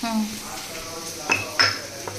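A spoon drops and clatters among pots on a stove while pumpkin fries with garlic and onion, two quick metallic knocks standing out over a low background sizzle.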